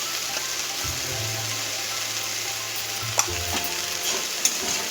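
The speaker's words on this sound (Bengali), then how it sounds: "নুন হলুদ দিয়ে ভালো করে একটু ভেজে নিই মশলাটাকে" Spices frying in a pan with salt and turmeric over potato fry, a steady close sizzle with stirring scrapes and a couple of sharp knocks of a spoon against the pan.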